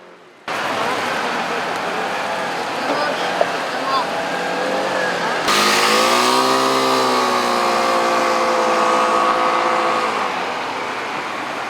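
Small 125cc motorcycles circulate on a rider-training course, their engines droning steadily and rising in pitch as they speed up, with a voice talking over the continuous engine noise.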